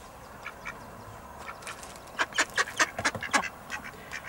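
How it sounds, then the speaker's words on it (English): A drake chases a duck in Scotland, both quacking loudly in a rapid flurry of harsh calls that builds to a cluster of close, overlapping quacks before tailing off, over faint outdoor background noise. "the awful sound of a drake chasing a duck and trying to mount her. They were both quacking away like crazy"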